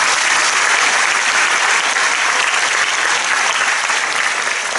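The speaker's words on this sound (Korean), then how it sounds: "우리 이재서 총장님에게 사모님에게 먼저 박수로 축하 격려해 주시기 바랍니다." A congregation fills the hall with loud, continuous applause honoring Lee Jae-seo, the seventh president of Chongshin University, and his wife during his inauguration and thanksgiving worship service. The clapping stays thick and even from start to finish.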